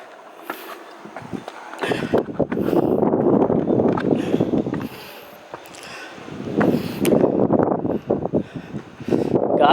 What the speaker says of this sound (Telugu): గాలి అయితే మామూలుగా రావట్లేదు,